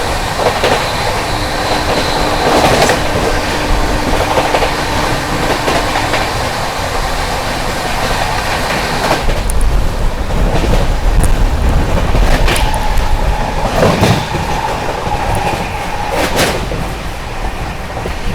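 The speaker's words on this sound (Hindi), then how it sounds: "अपनी गोवा संपर्क क्रांति ओवरटेक करने जा रही है।" Goa Sampark Kranti Express rolling at speed while overtaking another express, a steady loud rumble of wheels and carriages with rhythmic clatter and occasional sharp metallic squeals and bangs, no voices.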